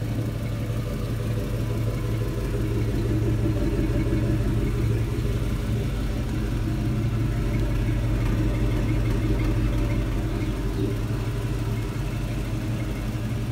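A lifted 1995 Ford Bronco 4x4 engine idles steadily with a deep, even rumble and low throb. It is close and continuous, with no voices.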